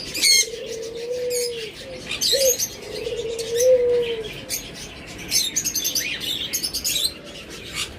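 Pet birds kept for sale, among them lovebirds, cockatiels and budgerigars, chirp and tweet in a busy mix of short sharp calls, with a few longer whistled notes and some cooing underneath.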